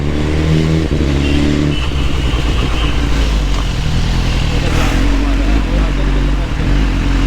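A 2021 Suzuki Hayabusa motorcycle pulls away in a busy crowded street, its engine revving and accelerating loudly up close under continuous talking from the rider, with traffic noise around.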